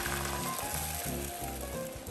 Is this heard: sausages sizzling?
yes